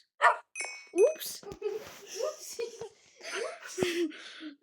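Dogs bark in short, sharp bursts mixed in with lively voices and laughter nearby, the barks fairly close and interrupting the chatter.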